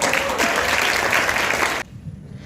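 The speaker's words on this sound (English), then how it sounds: "So let's just give ourselves a massive round of applause" Year 12 graduates at a graduation ceremony give themselves a big round of applause, a loud, dense roar of clapping close by that stops abruptly, leaving faint room noise.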